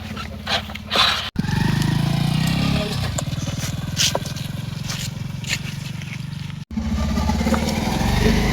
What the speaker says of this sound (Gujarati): પેલું એક બાઈક આવે છે